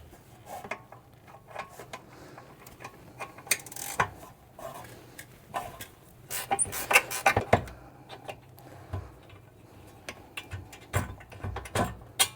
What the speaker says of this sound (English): Let's get a wrench on it.